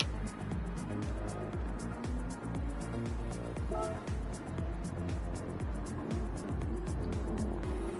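Race cars in a TCR racing video game roar and squeal their tires while donutting, a dense continuous engine and skid wash with a commentator talking over it.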